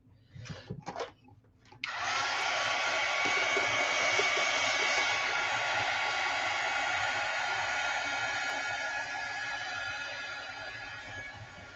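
A heat tool blowing hot air beside a self-healing cutting mat during a mixed media canvas bag craft, starting after a few soft clicks and then holding a steady, fairly loud whooshing hiss.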